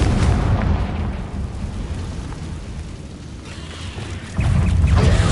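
Confringo spell explosion in the Hogwarts Legacy video game, a loud rumbling blast with crackling debris that fades, then a second heavy boom surges near the end.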